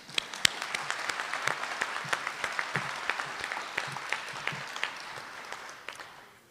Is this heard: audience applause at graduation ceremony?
yes